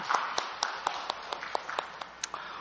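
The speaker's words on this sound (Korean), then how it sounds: "영광과 박수를 주님께 돌리십시다." Scattered, irregular hand claps from a Korean church congregation during a Sunday service, sparse and fairly faint over a steady hiss of room noise.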